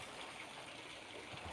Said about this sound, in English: Where's that water coming from?